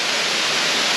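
A loud, close waterfall pours without a break, a dense, steady roar of falling water that fills the whole moment.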